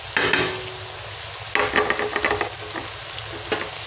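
Chopped onions hit hot oil in a pan, sizzling steadily while a utensil scrapes and stirs them in a series of quick, close strokes.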